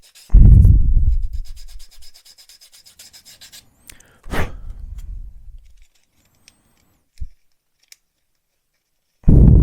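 A plastic part from a Hobby Boss M1070 Oshkosh HETS model kit is rubbed down by hand, giving a few short, close scraping strokes separated by near silence.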